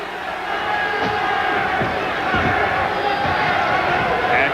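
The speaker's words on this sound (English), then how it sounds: "The chant of the truth from the crowd." A boxing crowd in Reno chants for Carl "The Truth" Williams during his fight with Larry Holmes, a loud, steady roar of many voices that fills the whole stretch without letup.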